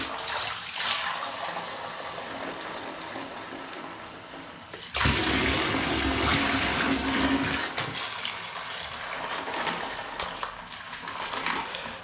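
Water gushes loudly for a few seconds while a bag is rinsed out, preceded and followed by quieter splashing and trickling water, with no speech.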